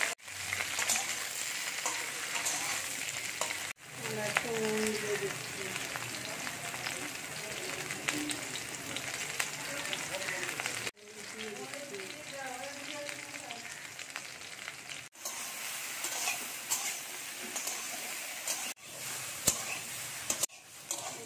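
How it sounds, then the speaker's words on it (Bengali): Taro stolons (kochur loti) frying in hot oil, a steady broadband sizzle running throughout with brief cuts, occasional stirring, and faint voice traces underneath. "তেলটা গরম হয়ে গেছে, আমরা কচুর লতি রান্না করব।"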